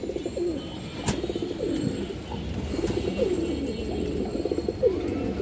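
Pigeons coo softly and repeatedly, several low rolling calls close by, with faint rustling and a couple of sharp taps.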